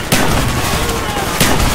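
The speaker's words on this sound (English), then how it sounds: "Shoot the lock, Mason!" A gunshot fired at a lock in the Call of Duty Black Ops video game, one sharp loud crack followed by a second report about a second later, amid dense game background noise.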